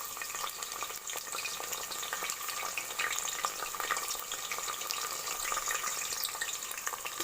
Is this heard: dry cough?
no